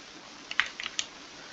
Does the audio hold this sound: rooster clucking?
no